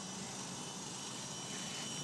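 A Lama helicopter flies on a Sunday morning, heard as a steady, faint broadband rotor and engine rumble from a distance, with no talking.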